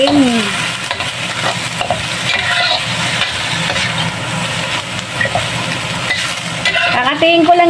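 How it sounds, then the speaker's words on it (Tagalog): Ground meat fries loudly in a pan, stirred almost continuously, so the scraping and clattering ride over a dense, constant sizzle with no talk. "nag-uumpisa na tayo magluto ng karne na giniling"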